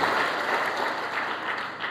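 Church congregation applauding during a sermon, a moderately soft, steady patter of many hands that holds evenly for two seconds.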